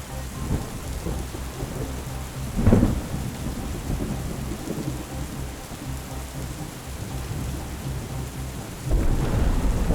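Steady rain falls on the Cooks River on a wet day, with rumbles of thunder rolling in twice, once near the start and again at the end, over a constant hiss of rain on surfaces.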